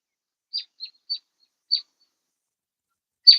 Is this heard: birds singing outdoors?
yes